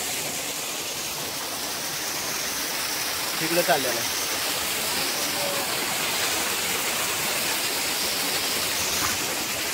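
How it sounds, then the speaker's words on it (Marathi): At Bhimashankar, a waterfall roars as steady, broad rushing water throughout, with a brief voice speaking partway through. "हे धबधब्याचं मेन सोर्स इथून आहे"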